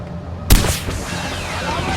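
A single loud gunshot cracks out in Far Cry 4, a sharp near blast whose boom and echo tail hang over steady game ambience, with no speech.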